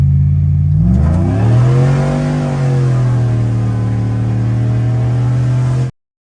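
A modified sleeper Chevrolet Silverado on Hoosier slicks launches at full throttle from a roll, its engine note climbing loud and steady in one sustained pull before cutting off abruptly.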